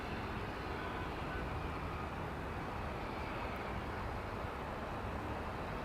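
An American Airlines Boeing Dreamliner sits lined up on a sunny runway at DFW Airport, its engines giving a steady, broad, moderately distant roar that holds evenly throughout.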